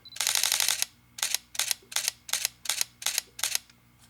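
Canon R50 camera firing a burst with first-curtain shutter: a sustained rapid clatter followed by seven evenly spaced short bursts of mechanical shutter clicks, close and crisp with no talk.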